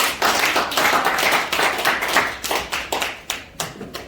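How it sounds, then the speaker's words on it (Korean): Audience at a club lecture claps together, a brisk burst of many hands that thins into scattered, uneven claps toward the end. "박수했습니다"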